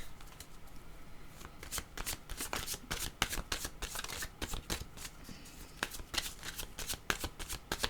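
A deck of oracle cards is shuffled by hand, producing rapid, crisp riffling snaps in an irregular rhythm, close and clear with no talking.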